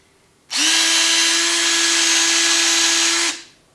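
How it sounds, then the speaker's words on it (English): A Trim-It case trimmer fitted with an end mill cuts a piece of rifle brass in one steady, loud, high-pitched whirring burst of about three seconds, starting and stopping abruptly, with no talking. "now basically you take your brass, and this is exactly the same piece of brass I was using earlier"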